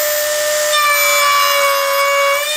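A Dremel 335 router attachment cuts into a wooden router-table fence, giving a loud, steady high-pitched motor whine with bright harmonics. The grinding cut continues alone for the whole stretch, with no speech.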